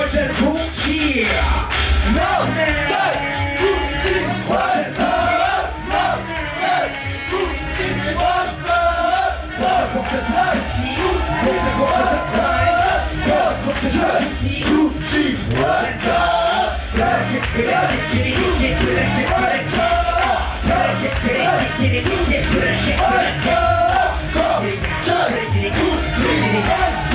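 A dense, loud crowd at a vogue ball cheers and yells continuously, a sustained wall of shouting voices with no pauses.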